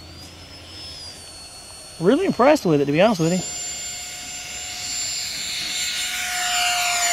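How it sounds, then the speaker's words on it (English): An E-flite Habu SS 70mm electric ducted-fan RC jet whines steadily as it flies, with a thin tone that shifts in pitch and a rising broadband rush. Someone talks briefly over it partway through. "It's a good flying plane."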